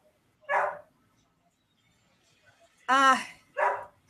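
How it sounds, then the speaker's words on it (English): A few separate dog barks sound in short bursts with silence between them, close by and moderately loud; a voice says a brief word. "They just bark every time somebody moves."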